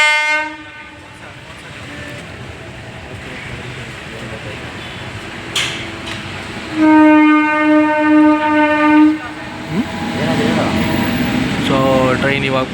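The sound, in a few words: train passing a level crossing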